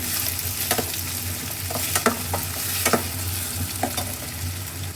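Onions, curry leaves and green chillies frying in a pan for Rayalaseema uggani, with a steady close sizzle and a spoon scraping and stirring in irregular strokes, no voices.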